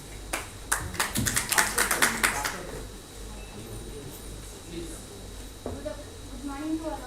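Audience at an e-commerce conference clapping hands after a speech, a burst of claps over the first three seconds that then fades into room noise and murmuring.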